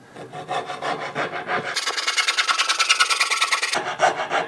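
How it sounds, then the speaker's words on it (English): Hand saw cutting through a wooden guitar headstock, rapid rhythmic rasping strokes close up, the tone brightening midway before settling back. "before I finish the cut, see how the back of the saw, this curved part, is clearing the piece real nicely."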